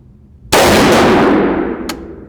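A single loud, close gunshot from an HK G3-pattern PTR9 rifle firing reloaded .308 Win ammunition in fluted brass, with a sharp crack and a ringing tail that fades over about a second, plus a faint click near the end.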